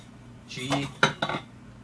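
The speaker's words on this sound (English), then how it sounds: "This has my kettle, my utensils, that little pan on here." A GSI camping cook set kettle and cup clink and rattle as metal pieces are handled, with a few sharp knocks in quick succession, close and fairly loud, and no talking.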